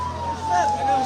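An ambulance siren carries the dead after a mass poisoning from adulterated alcohol in Kenitra. One steady wailing tone holds through a brief moment, mixed with crowd noise and voices.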